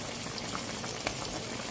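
Chicken simmering in vinegar for Filipino adobo puti, with a steady close bubbling boil and faint sizzle of rendered fat, continuous and even across the short stretch with no voices.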